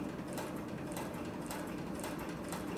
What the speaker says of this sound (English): So we're going to go ahead and go down through four layers of three to four ounce upholstery leather.